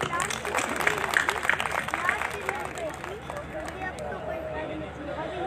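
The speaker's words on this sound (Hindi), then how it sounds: "आप लोग अपने लिए ही तालियां बजा लीजिए" Crowd applause at a mushaira in Karachi breaks out loudly, then thins into scattered claps and murmuring chatter from the audience as it fades.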